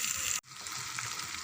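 Food sizzling and being stirred in a frying pan, a steady close crackle that cuts out for an instant and then carries on evenly.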